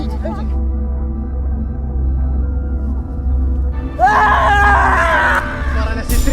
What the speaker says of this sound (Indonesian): Itu teriakannya.